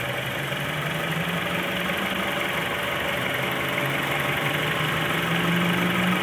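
The original engine of a 1998 Honda Civic EX Coupe idling, a steady, even hum with a faint mechanical tick, heard close up with no talking.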